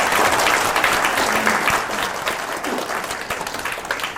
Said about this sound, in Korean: 박수로 격려해 주십니다